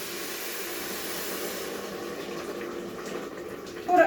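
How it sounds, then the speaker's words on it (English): Hot water from a kettle pours steadily into a pot of potato and green lentil soup, a continuous close rushing splash that holds for several seconds and tapers off near the end. "And when your kettle is ready, just pour it all in."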